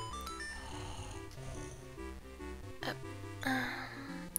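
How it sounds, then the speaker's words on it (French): Snoring of a sleeping character in the Game Boy Advance game The Minish Cap, a soft repeated in-game snore mixed into the steady chiptune music, with no speech. "Il ronfle encore."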